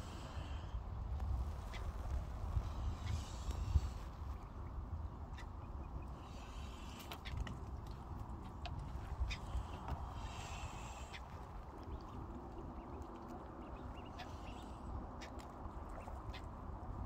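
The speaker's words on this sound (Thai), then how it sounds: "เป็ดน้อยกินเก่ง" Little ducklings quack repeatedly while feeding outdoors under an overcast, rainy-looking sky, giving a steady chatter of soft calls over a low background rumble.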